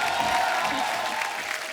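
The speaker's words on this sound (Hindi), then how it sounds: "हमारी इंडियन विमेन क्रिकेट टीम के लिए जोरदार तालियां हो जाएं" Enthusiastic studio-audience applause greeting the Indian women's cricket team on a comedy show, loud and dense in a short continuous burst with crowd noise mixed in.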